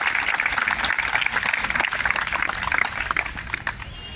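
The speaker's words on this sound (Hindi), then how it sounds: "एक बार जोरदार तालियां।" Loud, dense applause from a crowd at a nurses' protest rally, sustained and steady throughout with a few sharper claps standing out.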